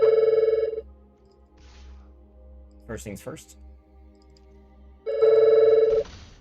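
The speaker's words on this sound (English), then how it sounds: "Oh, and you can hear a phone going off in the background." A telephone rings in the background as two loud bursts of electronic ringing, one at the start and one near the end, while a person speaks briefly between the rings.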